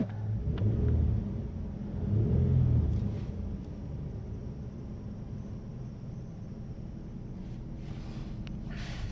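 A 2005 Ford Ranger XLT 4x4 pickup with 34,000 miles: its engine is revved twice in quick swells of deep, close rumble, then settles back to a steady idle. No one talks.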